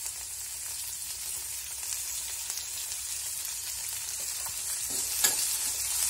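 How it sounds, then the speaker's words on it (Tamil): Onion, tomato and fennel seeds sauté together in a pan for karuvadu thokku with a constant, even hiss of frying, a few faint stirring scrapes near the end, soft and close, with no talking. "இப்போ வெங்காயம் தக்காளி சோம்பு எல்லாமே நல்லா சேர்த்து வதக்கிக்கோங்க."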